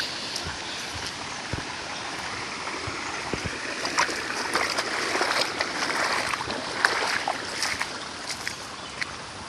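A Konkan river swollen into flood after stormy monsoon rain, flowing fast with a steady, even rushing wash and scattered splashes, continuous and without talk.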